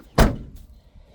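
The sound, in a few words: pickup truck door closing with a noise, Ford Ranger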